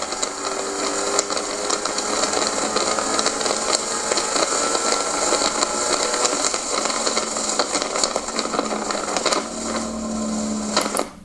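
A Ford Mustang race car engine roars steadily at high revs in fourth gear on a circuit, loud and continuous, with a brief rise in pitch near the end as the throttle is released late before it cuts off.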